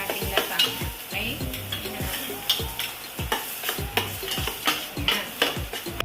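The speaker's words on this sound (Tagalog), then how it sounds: "pag mainit na yung mantika, gisa na natin yung ating bawang sibuyas." Garlic and onion sauté in hot oil for lasagna, with a continuous sizzle broken by rhythmic scraping strokes of a utensil against the pan, close and fairly loud.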